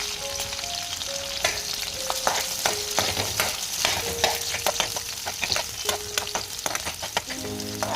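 Onions sizzle loudly in a pan for fish curry, with a constant frying hiss broken by frequent sharp clinks of stirring and no talking.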